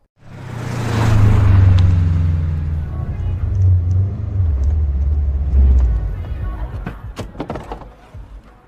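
A Subaru car rumbles as it pulls away and drives past, a low engine drone swelling loud and then easing, with a few sharp knocks near the end.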